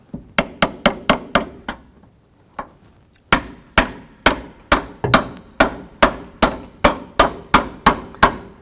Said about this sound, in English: put it right on the back of the shaft right here. You can use a long pry bar, a long screwdriver, whatever you have. And we're going to gently go ahead and tap down